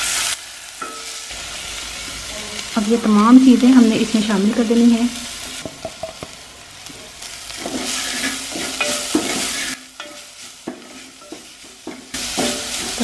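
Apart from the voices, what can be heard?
sautéing onion, garlic and ginger in a pan for samosa filling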